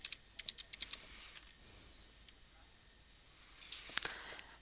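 Close, quiet typing on a computer keyboard comes in short bursts of crisp key clicks at the start and again near the end, with a soft pause in between.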